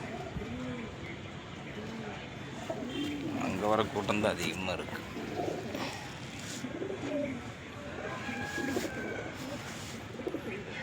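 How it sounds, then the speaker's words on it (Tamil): Racing pigeons cooing and flapping over a loft in a Tamil village, soft throaty coos and wing flutters close by under someone talking steadily in Tamil, with outdoor background noise throughout. "எல்லா புறாமே பாருங்க இந்த வாரம் களத்துக்காக பறந்துட்டுருக்குது"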